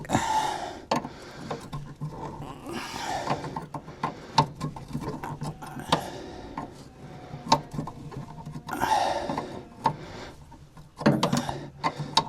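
A brake pipe fitting on a Zephyr mk3 barn find, with a mangled thread and possible cross-threading, is worked with a spanner, giving irregular metallic clicks, ratcheting taps and scraping, close and uneven.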